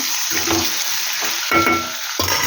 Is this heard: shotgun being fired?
no